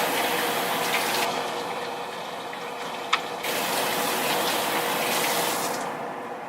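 Cabbage is rinsed under a running kitchen tap, a loud steady gush of water with brief changes in the splash as the leaves move through the stream and one sharp knock midway.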